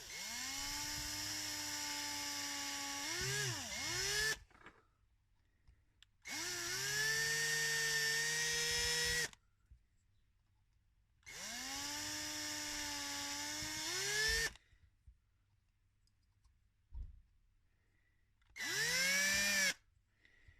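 A power drill enlarges screw holes in a plastic part, spinning up in four separate whining bursts of a few seconds each, with a falling pitch dip at one cutoff and quiet pauses between runs.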